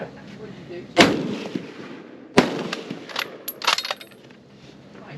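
Two sharp, loud rifle shots from a Czech VZ-24 bolt-action in 8mm Mauser, about a second and a half apart, each cracking out and fading into outdoor rumble, with smaller clatter and rustle between them and no voices.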